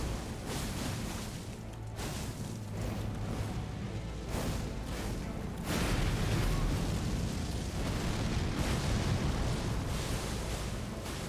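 An explosion and a Rivers of Blood attack in the video game Elden Ring: a steady, roaring barrage of heavy booms and bursts, loud and continuous throughout, growing denser partway through.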